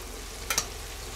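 Black Angus beef sears in a hot pan for chili con carne, giving a steady close sizzle with a couple of brief sharper crackles, and no one speaks.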